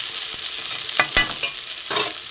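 Drumstick leaves frying in a pan for a vegetarian chorchori, giving a steady soft sizzle broken by a few sharp crackles and stirring scrapes, close and fairly quiet, with no voices.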